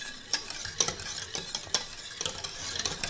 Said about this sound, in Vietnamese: Tiếp tục mình quậy liên tục luôn,